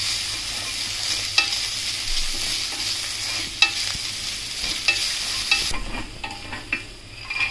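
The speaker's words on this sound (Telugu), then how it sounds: "ఆ తర్వాత జింజర్ గార్లిక్ పేస్ట్, ఇది పచ్చివాసన పోయేదాకా వేగాలి" Ginger garlic paste frying in a pan for a dhaba-style tomato cashew curry, a steady close sizzle broken by repeated scrapes and taps of a spoon against the pan, with no talking.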